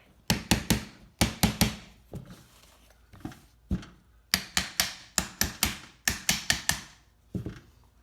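Sharp metallic hammer taps on a Triumph TR3 wiper motor part in quick bursts of three or four strikes, separated by short pauses, close and ringing.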